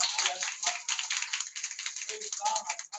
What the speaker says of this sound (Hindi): क्या आप ताली बजा सकते हैं?